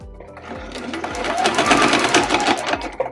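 A sewing machine back-stitches over a small fabric loop on a zipper pouch made from scraps, running in short bursts with audible stops and restarts as it reverses, close and steady.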